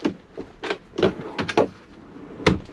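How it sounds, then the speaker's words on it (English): A series of short sliding scrapes and knocks, several quick rubbing strokes followed by a final clunk as a locking drawer slides shut inside a Peterbilt 567 truck cab. "slide it back in. And this is a locking drawer."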